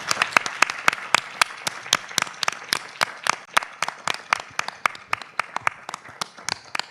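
Audience at an international conference on government and public policy in Latin America gives a sparse round of applause, distinct individual claps near and crisp in a steady irregular patter that continues throughout.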